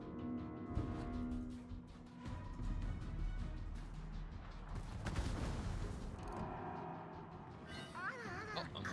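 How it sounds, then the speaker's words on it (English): Naval guns firing in a World of Warships battle, heavy booms and blasts stacking over a continuous low rumble of combat, with a burst of sharp whistling and crackling near the end. "Well, might as well fire back, see if we get some damage in."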